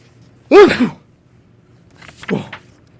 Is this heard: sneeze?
yes